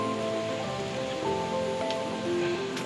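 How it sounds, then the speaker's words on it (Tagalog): Steady rain falls through a Monday morning, a constant close hiss of drops on surfaces with a few brighter spatters standing out, and no voices. "Maulan na naman."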